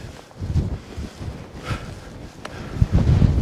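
Gusty wind buffeting the microphone in irregular low rumbles, rising and falling over a few seconds, with no talking.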